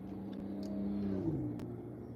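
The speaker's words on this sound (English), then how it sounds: "Ooh, Porsche." A Porsche sports car revs and passes by nearby, a steady engine drone that swells in the middle and eases off, heard alone without talk.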